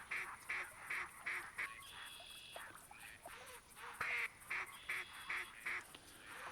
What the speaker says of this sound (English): So you can tell these are gadwalls.